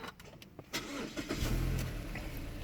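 A 2014-on Mazda 6 engine cranks and catches, then settles into a steady, fairly loud running rumble close by.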